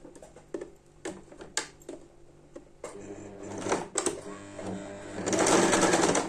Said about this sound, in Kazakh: закрепка беріп тігіп аламыз.